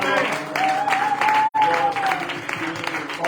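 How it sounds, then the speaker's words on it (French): A church congregation applauds and acclaims Jesus with loud, sustained clapping that nearly fills the room, broken by one sharp drop in the middle. A singing or shouting voice rides over the applause and music. "Est-ce qu'on peut bien acclamer Jésus?"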